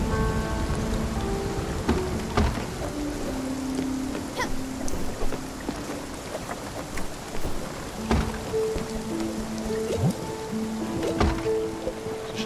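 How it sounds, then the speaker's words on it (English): Steady rain falls in the video game Spiritfarer, a dense constant patter with rumbles of thunder, alongside scattered soft game chimes and tones. "Oh, this rain. Will it ever stop?"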